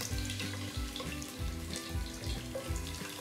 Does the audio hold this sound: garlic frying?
yes